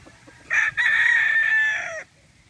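Boston Black gamefowl rooster crowing once nearby: a loud, clear cock-a-doodle-doo lasting about a second and a half, with a brief break near the start, over faint background.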